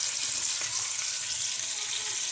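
A pork roast browns in a hot pan, giving a steady, loud, continuous sizzle and hiss that runs unbroken throughout, with no voices over it.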